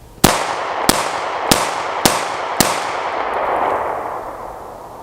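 Five gunshots ring out at an outdoor range during an optic test, evenly spaced about two-thirds of a second apart, each a sharp loud crack with a fading echo.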